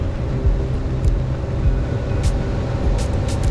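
A light aircraft engine roars at full power during the takeoff roll on runway 18 left, a steady, loud, close droning throb that stays constant throughout with no voices.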